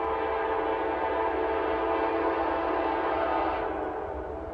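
Norfolk Southern heritage unit locomotive 8114 approaching as a steady, loud rumble of engine and rolling wheels with a sustained horn blast, fairly close and constant throughout, easing slightly at the end with no talk.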